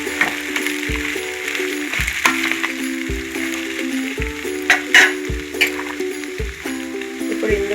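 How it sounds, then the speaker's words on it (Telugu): Pieces of ivy gourd (dondakaya) fry with salt in a home pan, giving a steady close sizzle broken by periodic stirring scrapes and clatter, with no talking. "ఇప్పుడు ఇందులో కొంచెం సాల్ట్ వేసి వేయించుకుంటే త్వరగా వేగుతాయి."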